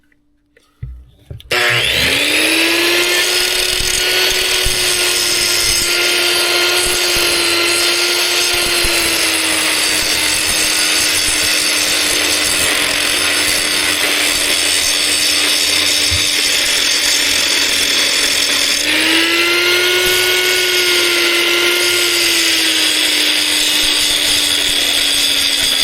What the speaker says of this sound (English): I'm going to just grind off